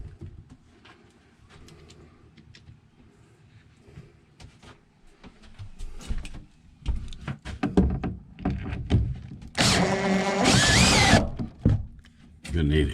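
A power drill drives screws while fitting an air conditioner to a truck camper, with short whirring bursts, clunks and knocks, and a loud sustained run near the end. The work is close by and has gaps between the bursts.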